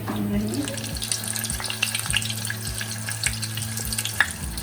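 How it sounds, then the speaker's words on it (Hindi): Chicken potato kebabs fry in a pan of oil with a steady crackling sizzle, broken by scattered pops and light stirring clinks, while a low mechanical hum runs beneath. "अब मैं फ्राई कर रही हूँ चिकन आलू के कबाब"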